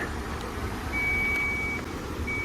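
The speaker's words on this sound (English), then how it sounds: "I hear the beeping, so the locks are getting ready to close" Thin electronic warning beeps sound at a canal lock on the Canal de Garonne as the gates get ready to close, a few short tones and one held tone over a steady outdoor rumble.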